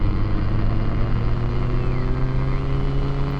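A Tofaş Şahin engine drones in a driving video game, a loud steady tonal hum with sustained harmonics and no obvious gear changes, heard alone.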